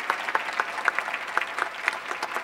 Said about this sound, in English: I would like to ask you to hand in a warm applause for this fantastic panel